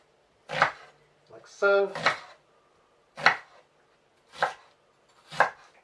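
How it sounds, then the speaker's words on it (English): Sharp knife strikes on a board cut an onion into small pieces, five distinct close chops spaced unevenly, with a brief spoken phrase between them. "chop it up like this into small pieces"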